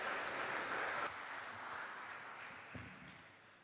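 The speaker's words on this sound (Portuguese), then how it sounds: "Por favor, uma salva de palmas." An audience applauds an invited speaker at a Bienal symposium on attention practices, a steady, fairly distant wash of many hands clapping that fades gradually toward the end.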